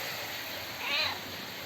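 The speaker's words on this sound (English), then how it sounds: "Look who's being a needy cat." A domestic cat gives a single short meow, fairly faint over quiet room noise, with no other sounds.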